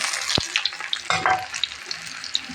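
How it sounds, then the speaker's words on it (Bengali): Dried chilies, garlic and onion crackle in hot oil for a tempering, with sharp close pops and spits over a light sizzle. "এবার আমি বাগার দিই দিয়েছি মরিচটাও দিয়ে দিয়েছি"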